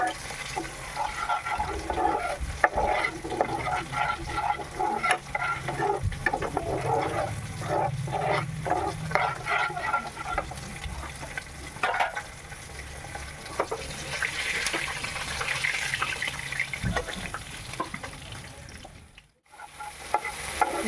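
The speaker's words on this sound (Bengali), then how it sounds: "এগুলো দিয়ে ভালো করে নেড়ে চেড়ে নেব" Kashmiri chilli powder, turmeric and salt stirred in a hot pan, a steady close scraping and faint sizzle running throughout with a brief dip near the end.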